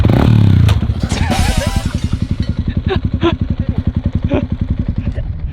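A Yamaha WR enduro motorcycle, a lightweight enduro bike, revved hard with a loud, close burst of throttle that drops into a fast, lumpy single-cylinder idle; a voice is heard briefly near the start.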